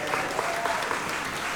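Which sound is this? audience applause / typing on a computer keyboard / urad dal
audience applause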